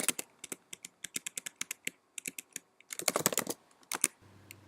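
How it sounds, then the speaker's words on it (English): Fingers type on a computer keyboard in quick, uneven runs of sharp clicks, close and clear, with a faster cluster near the end and a low hum after the last keystroke. "So I'll just type it in here."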